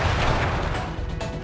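Burst of firework attack effects in Sly Cooper and the Thievius Raccoonus, a dense crackling, booming blast that stays loud and continuous for the whole moment.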